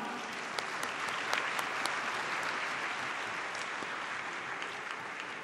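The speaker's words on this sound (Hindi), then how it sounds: "लेडीज एंड जेंटलमैन, आपकी दिल की गहराइयों से तालियां सुनना चाहूंगी।" A hall full of guests at a minority card issuance ceremony keeps up steady applause, with many hands merging into a continuous roar and a few sharper individual claps standing out close by.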